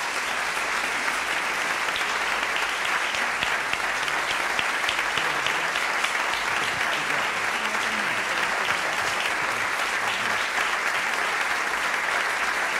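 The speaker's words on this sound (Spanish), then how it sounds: "un fuerte aplauso para Toñi y para Ataulfo" Sustained, loud applause from a concert audience fills the hall, a steady dense wash of clapping with no let-up for the whole span.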